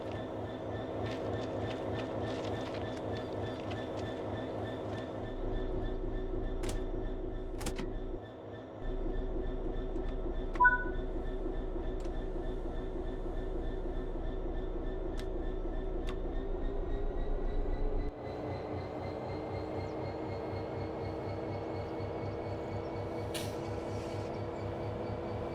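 Locomotive hauling wagons in Train Sim World 4, a steady droning engine with rhythmic low rumble and periodic clicks, some sharp metallic ticks, continuous throughout at moderate level.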